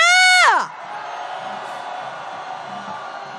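A street protest crowd marching to demand a president's impeachment bursts into sustained shouting and cheering right after a loud amplified call ends, a broad, steady roar of many voices.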